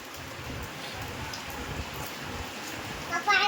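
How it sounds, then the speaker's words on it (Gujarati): Heavy rain pours steadily outside as a broad, constant hiss, with a few louder bursts near the end and faint voices underneath. "બારે ફાસ્ટ વરસાદ આવ્યો"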